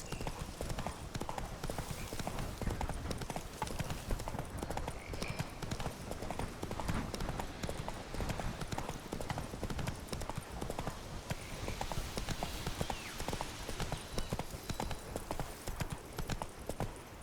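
Roach, a horse in The Witcher 3, gallops with rapid, steady hoofbeats that clip-clop without pause from start to finish, close and even in loudness, with faint game ambience behind.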